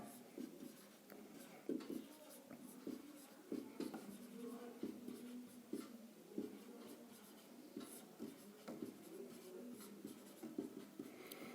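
A pen scratching out a maths answer by hand, with steady strokes and short taps repeating across the stretch, close and fairly faint, with a quiet voice now and then underneath.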